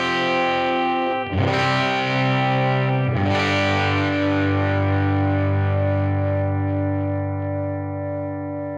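Electric guitar with single-coil pickups played through a Fat Jimmy 5E3 amp and pedals, two strummed chords ringing out with long, gritty, slightly overdriven sustain, loud and close with no talking.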